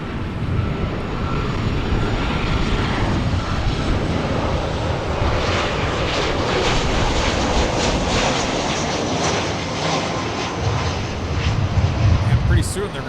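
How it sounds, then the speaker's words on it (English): American Airlines flight 650 from Cleveland arriving at LAX, a loud, sustained jet roar that swells slightly near the end, with talk likely underneath. "We're going to catch American Airlines 650 coming in from Cleveland Hopkins on the north side here real quick."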